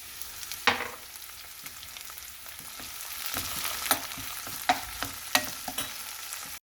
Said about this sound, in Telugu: ఇప్పుడు దీంట్లో మెంతాకు వేస్తానండి